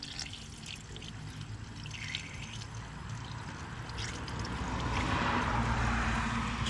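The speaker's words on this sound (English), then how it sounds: "Step one is to add the Motor Medic motor flush to the engine." Motor Medic motor flush pours into a car engine as a thin, steady trickle of liquid, faint at first and growing fuller toward the end. No one talks over it.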